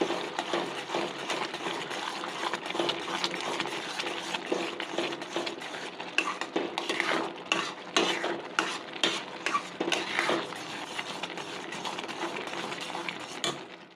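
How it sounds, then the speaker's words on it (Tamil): Ghee, milk powder and cardamom powder are stirred into pumpkin halwa in a pan, with a thick, sticky scraping and gentle sizzle repeating in uneven strokes, close by and without talk. "அதில் நெய், பால் பவுட்ரு, ஏலக்காய் பவுடர் எல்லாமே ஒன்றா சேர்ந்து இப்போ கலக்க போகிறோம்."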